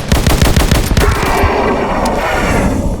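Rapid bursts of gunfire in the video game Slendytubbies, a loud close automatic volley for about a second that fades into a ringing, rumbling tail.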